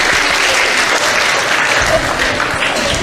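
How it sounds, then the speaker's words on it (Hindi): A crowd at a DAV school fun event gives loud, sustained applause, a thick and even wash of many hands clapping at once that continues without a break. "वेरी गुड, जोरदार तालियां।"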